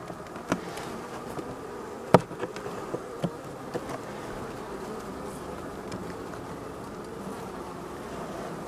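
A steady, dense hum of many honey bees buzzing close by in an open hive, with a few faint clicks and knocks scattered through.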